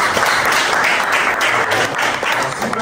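Steady audience applause fills a crowded event in Pointe-Noire, Congo, dense and loud throughout with no break.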